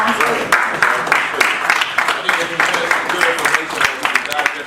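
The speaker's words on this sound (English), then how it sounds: "I want to give both of the combatants in this particular debate a round of applause" Audience at a debate clapping for both participants, a dense patter of applause running throughout with voices mixed in.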